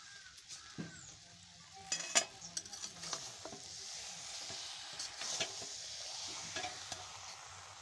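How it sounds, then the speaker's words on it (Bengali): Jaggery being stirred into raw mango pickle in a pot, with scraping and clinking that comes in uneven bursts and some sharper knocks near the start, close by and with no talk. "এবার আমি ভালো করে মিশিয়ে নেব গুড়টাকে।"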